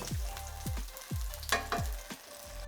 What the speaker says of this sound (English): Now fry the ginger.